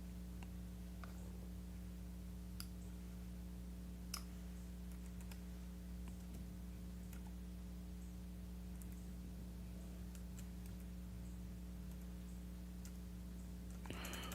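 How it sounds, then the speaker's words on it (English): Sparse, irregular keyboard keystrokes click faintly over a steady low electrical hum in a quiet room, and a short burst of clicks comes at the end. "I'm typing in English again."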